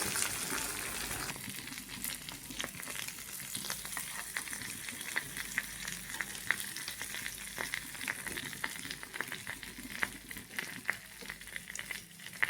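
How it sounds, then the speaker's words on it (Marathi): Indian mackerel (bangda) frying in a pan, its second side cooking in oil, giving a steady close sizzle with scattered small pops and crackles throughout, no voices. "एका बाजूने असा फ्राय झालेला आहे. आता दुसरी बाजू भाजत आहे."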